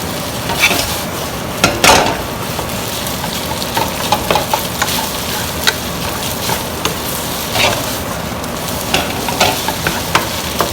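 Cooked rice being broken up and stir-fried in a hot pan for Thai red curry fried rice with shrimp, a steady sizzle punctuated by repeated scraping and clanks of a utensil against the pan, close and clear.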